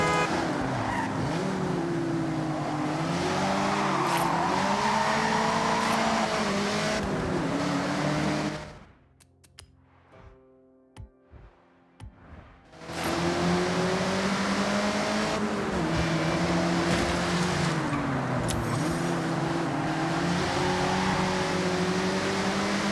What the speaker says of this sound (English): Drifters like to induce oversteer and send it all the way around.